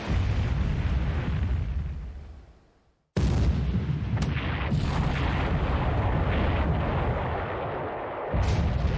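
Naval 12-inch shells fired in a video game, a long rumbling barrage of heavy booms and rolling blasts that fades, cuts off briefly, then bursts back in loud and sustained, with no talking.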